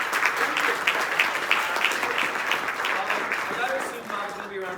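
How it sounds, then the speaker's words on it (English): Sustained audience applause after a percussion session at a conference, dense clapping at steady volume throughout with a few voices mixed in beneath. "Big round of applause for"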